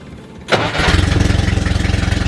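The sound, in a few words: Mercury Monarch with LS motor engine running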